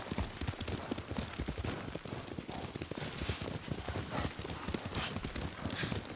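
A horse's hooves clip-clop at a brisk riding pace across the ground in the samurai video game Ghost of Tsushima, loud and close, with a soundtrack and ambience underneath.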